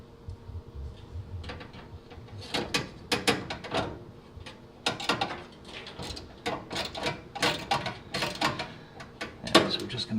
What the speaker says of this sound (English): we're just going to get a couple threads started, and then we'll get this one in the back.